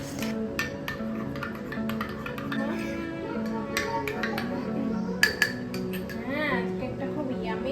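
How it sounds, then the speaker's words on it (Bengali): A spoon stirs soaked chia seeds into yogurt in a bowl, giving repeated light clinks and scrapes against the bowl. Soft background hum and faint voices sit underneath. "সব কিছু খুব ভালোভাবে মিক্স করে নেব যাতে একটা খুব সুন্দর ক্রিমি টেক্সচার চলে আসে।"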